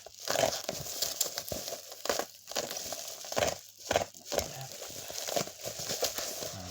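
Packaging around a pair of carburettors for a 1995 Suzuki 750 GSX-F being cut open and unwrapped: close, repeated crinkling and tearing of wrap in irregular bursts, with no talking.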